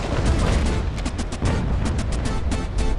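Heavy naval cannon fire from an age-of-sail battle game, including a frigate like the Constitution, as a dense run of booming shots with sharp cracks roughly every quarter second over a continuous loud roar.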